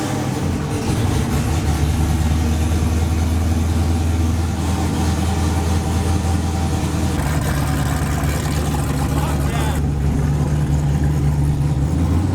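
A Ford Mustang with an LS engine swap runs steadily throughout, a loud, close, continuous engine drone with a low rumble that shifts slightly partway through, like light revving before it settles back to a smooth idle.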